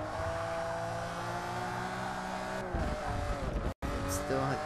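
A Ferrari Enzo in the Forza Motorsport racing game slides into oversteer, its engine note droning under a squeal of skidding tyres, then a sudden dip and a brief dropout before the engine picks back up.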